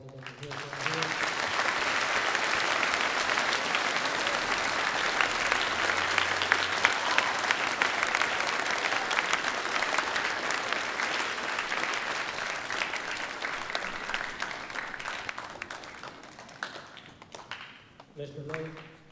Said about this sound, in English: let's give them a loud enough applause. And let's give them a hand